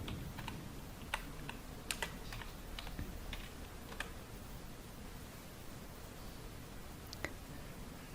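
Quiet, steady typing on a computer keyboard as a short group name is entered, a run of soft key taps with a few sharper clicks over faint background hiss.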